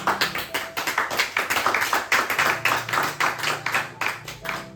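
A church congregation claps in a steady, rapid rhythm, loud and close, keeping an even beat throughout with no talk over it.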